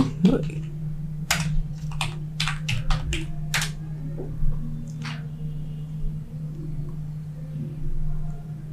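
Typing on a computer keyboard, a burst of crisp close keystrokes early on and then sparse scattered taps over a steady low hum.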